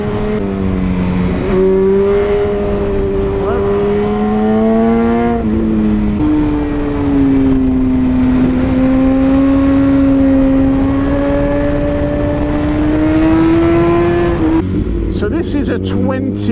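A 2010 BMW S1000RR sport motorcycle with an Akrapovic exhaust runs steadily close by, its engine note rising and falling through revs with a loud, continuous tone, and a voice talks over it.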